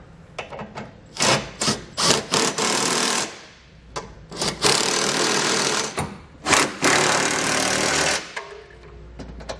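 A ratchet or power driver runs in repeated loud bursts with short pauses as Curt trailer hitch bolts are snugged down under a 2019 Toyota Corolla, close and without any talk.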